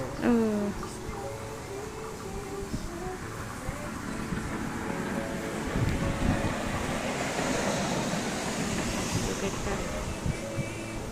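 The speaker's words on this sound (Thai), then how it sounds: "มันได้หวาน ลมเย็นดีมากเลย ตัวนี้อากาศดีเขีือลมหนาวมา" A cool wind blows steadily across the microphone outside a small homemade bakery and slow-bar coffee shop, a continuous broadband rush with gusty swells and faint voices underneath.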